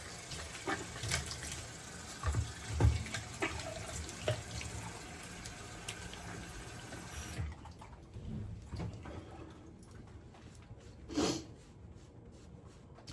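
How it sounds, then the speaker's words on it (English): A new Caveem safety razor is rinsed under a running bathroom tap. Water streams steadily and splashes for several seconds, then the flow stops, leaving faint drips and small clicks close by. "All right, let's rinse up."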